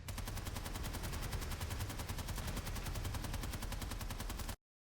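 Rapid automatic fire from an NS11M rifle in a video game, shot with and without a flash suppressor, a dense continuous burst of loud gunshots lasting about four and a half seconds before cutting to silence.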